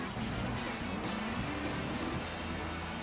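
A racing car engine in a video game drones loudly and continuously, with automatic shifting, its pitch rising and shifting as it speeds along, with faint talk underneath.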